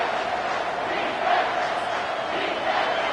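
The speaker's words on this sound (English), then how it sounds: "Third down, and this crowd will blow out a vocal cord to help this defense" A large football stadium crowd roars continuously on third down, a loud and sustained wall of cheering and yelling that swells slightly in places.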